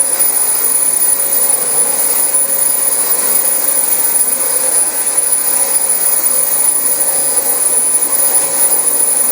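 A six-year-old Dyson DC25 upright vacuum cleaner runs on a very dirty carpet, producing a loud, steady, high-pitched motor whine and airflow roar that stays constant throughout.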